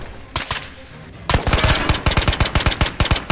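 MPX submachine gun fired in Ghosts of Tabor, a VR shooter, with a couple of short isolated shots followed by a loud, rapid automatic burst of closely spaced cracks, close up and with no talking.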